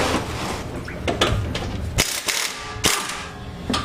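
Ratchet with an 18 mm socket working the lug nuts on a 2010 Camaro SS: irregular close clicking and metallic clanks, with sharp knocks scattered through it.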